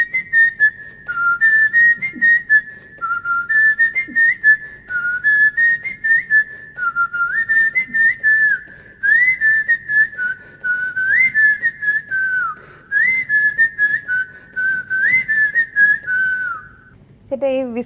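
A man whistles a fast Hindi song, a clear, loud melody carried in short rhythmic phrases with brief breaths between them, alone and close to the listener.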